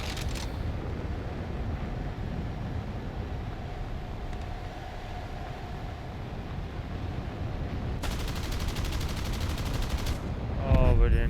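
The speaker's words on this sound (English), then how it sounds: "I think my guns will be back" Machine gun fire in the War Thunder video game: a dense, steady roar of gunfire and engine rumble throughout, with a sharper rapid burst of shots near the end.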